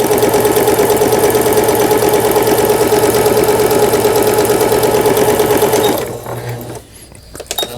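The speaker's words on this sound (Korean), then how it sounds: "다이아몬드 무늬 바느질 예, 사다리꼴 무늬 바느질," A Juki HZL-K65 sewing machine stitches decorative diamond and trapezoid patterns with a loud, fast, steady mechanical whir close by, then stops abruptly near the end, leaving faint handling noise.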